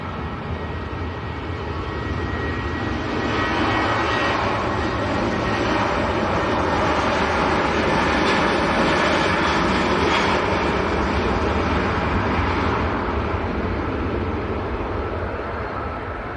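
A Ryanair airliner takes off at Manchester Airport, its loud continuous jet engine roar building gradually and holding steady throughout with a broad rushing texture, heard alone without voices.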